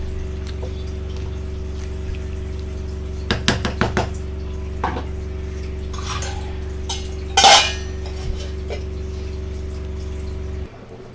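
A lid is set onto a pot of radish chicken kurma with potatoes, giving a few clattering metal knocks and a sharper clank over a steady background hum, with no talking.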